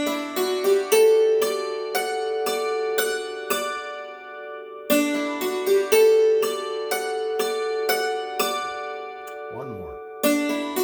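A hammered dulcimer plays a phrase of the tune 'Missouri', its struck strings ringing bright and sustained in a repeating melodic line, heard alone with a brief squeak near the end.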